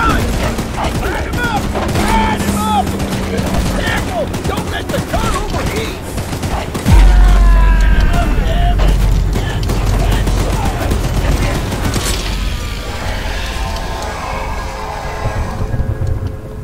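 A mounted gun fires rapid bursts at Charles in the Choo-Choo Charles game, dense loud gunfire sustained across the stretch with a heavier boom midway, while voices shout over the shooting.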